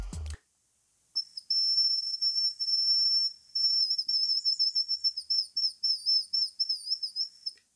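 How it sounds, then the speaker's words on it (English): A shrill, piercing whistle blown on a clay pipe whistle in long steady blasts, then a run of short warbling toots, loud and close with no talking. "I think I have made the first clay pipe whistle."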